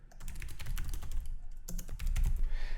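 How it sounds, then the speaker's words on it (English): Computer keyboard typing while entering text into a news app form: rapid, irregular clusters of clicks and key strikes, fairly close and steady, with no talking. "I'll write a bunch of stuff here."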